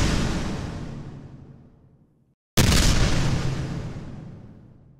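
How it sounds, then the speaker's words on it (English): Two heavy, booming explosion effects synthesized in Vital, each a sudden loud burst of rumbling noise that slowly decays, separated by a brief moment of silence. "it's the sound that we're going for with the explosion"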